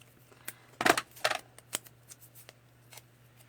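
Scissors snip through a paper card piece for a Stampin' Up! rose-themed handmade card, a few quick close cuts clustered together with faint paper rustles and a low steady hum underneath.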